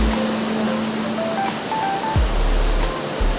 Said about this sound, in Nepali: खोलाहरूको साउन्ड क्या मजाको हुन्छ